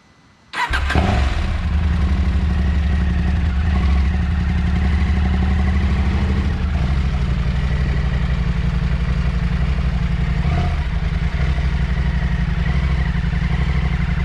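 A KTM 890 Adventure R motorcycle on a slippery climb fires up and then runs steadily and loudly at close range as the clutch is let out, a continuous throbbing engine note with no talk.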